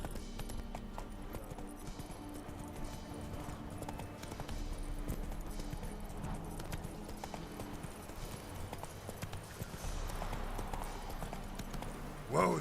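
Roach the horse galloping in The Witcher 3: rapid, rhythmic hoofbeats running steadily at moderate volume, ending with a short burst of louder sound.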